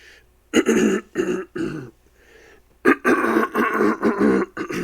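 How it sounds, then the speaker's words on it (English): A person clears their throat repeatedly, several harsh, raspy bursts close up with short pauses between them. "Clear my throat here."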